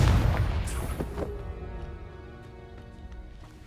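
The Confringo spell in Hogwarts Legacy lands as a heavy booming blast at the very start, then a ringing, crackling decay fades out over a few seconds.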